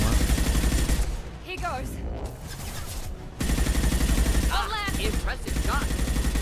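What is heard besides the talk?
gunfight gunfire in a video game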